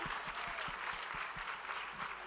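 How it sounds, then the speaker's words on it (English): An audience at a literature festival applauds steadily, a dense wash of clapping that stays even throughout the short moment. "Let's give him a big hand."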